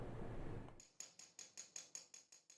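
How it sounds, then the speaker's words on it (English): A drill bit cracking glass for an art piece, a steady series of about eight sharp, evenly spaced taps after a brief noisy start, close and faint. "an artist has found a unique way of producing art pieces by cracking glass with a drill bit"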